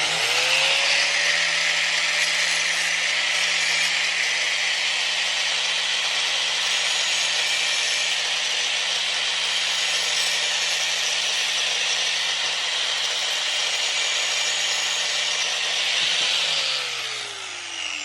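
A Dewalt 4.5 inch small angle grinder runs free at a steady high-pitched whine, loud and close, holding constant before spinning down at the end.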